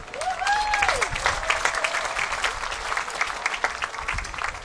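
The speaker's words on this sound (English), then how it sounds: "A nice round of applause for the MAC." A festival crowd on Maui applauding for the MAC outdoors, loud sustained clapping with scattered whoops and a rising whistle near the start.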